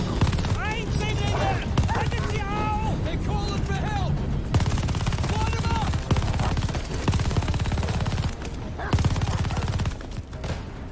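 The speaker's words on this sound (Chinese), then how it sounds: "这枪很猛，瞬间就扫倒了一片" A light machine gun fired in Call of Duty: Vanguard on a dark rainy night, dense rapid bursts of gunfire crackling over game music and effects, loud and sustained throughout.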